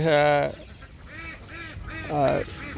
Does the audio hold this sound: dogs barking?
no